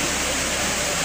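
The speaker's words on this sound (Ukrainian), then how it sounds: "Тут у нас це один з найбільших водоспадів. Він рукотворний." A man-made waterfall on the Dzhuryn river pours in a loud, steady roar of rushing water, a dense continuous wash with no break.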